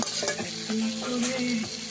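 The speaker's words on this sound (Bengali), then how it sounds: "এটা একটু ভাজা হোক।" Food sizzles steadily in a pan on a small clay stove, with a few scraping stirs of a spoon. The cooking sounds are close and moderately loud, and no one speaks.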